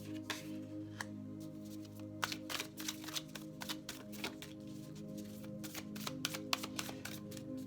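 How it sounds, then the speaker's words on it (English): A new, slightly sticky deck of playing cards being shuffled, with repeated crisp riffling bursts and sharp snaps over a steady low hum, close and fairly quiet. "I know when I shuffle on screen, that way you know I'm not picking cards"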